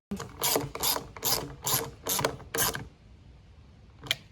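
A ratchet tightens a bolt on a lawn mower, making six quick ratcheting bursts of sharp metallic clicks up close, then a pause and one final click, with no speech.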